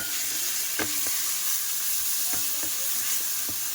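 Onion fries in hot oil with a ginger-cumin paste added for a bottle gourd dish, giving a steady, close sizzling hiss with a few soft taps of a spatula against the pan.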